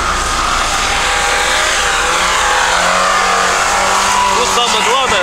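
An off-road vehicle at a hill-climb event, among a Nissan Patrol, Niva, Isuzu Rodeo, UAZ and Volkswagen Touareg, revs hard at high RPM in low range, its engine roaring loud and close with whining, shifting tones as the wheels spin.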